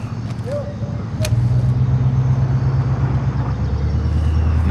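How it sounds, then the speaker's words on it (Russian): A truck in Call of Duty Modern Warfare (2019) pulls away with a low, steady engine drone that swells and holds loud, under a continuous rumbling game ambience, with a brief sharp mechanical hiss near the start. "Вижу один грузовик. Газ повезет. Машина поехала."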